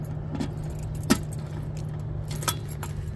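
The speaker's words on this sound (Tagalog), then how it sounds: "Meron pala kaming susi." Keys jangle and clink in a couple of sharp metallic bursts while a boat gate is unlocked during a power outage, heard close over a steady low engine-like hum.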